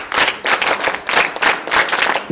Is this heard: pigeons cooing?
no